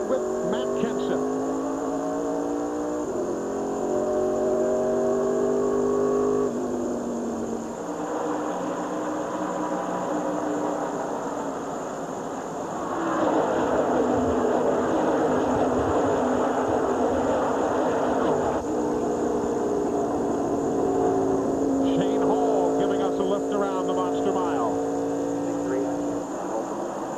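NASCAR race cars in the 1999 Busch Series MBNA Platinum 200 roar as the field takes the green flag on a restart, a dense wall of engine drone rising and surging continuously with commentary talking over it.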